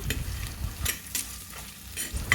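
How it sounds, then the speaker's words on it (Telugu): Sliced onion frying in a big pot for mutton biryani, giving a soft, steady sizzle with a few scraping stir strokes. The sound is close and subdued, and no one speaks. "ఇప్పుడు ఇందులోకి ఒక పెద్ద ఉల్లిపాయ తీసుకుని చీలికల కింద కట్ చేసి వేసుకోవాలి. 2 నిమిషాల పాటు బాగా వేగనివ్వాలి."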